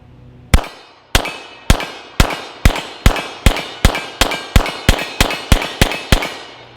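A handgun fires Freedom Munitions 124-grain standard range-load ammunition at an outdoor range, fifteen loud, sharp shots in a steady, fairly quick rhythm with no talking.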